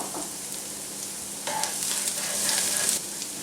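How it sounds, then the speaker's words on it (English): Garlic sizzles in a pan with softened, translucent onions, a steady close frying hiss that swells louder midway as it is stirred. "it's starting to sweat nicely now, so I'm just going to add in now my garlic"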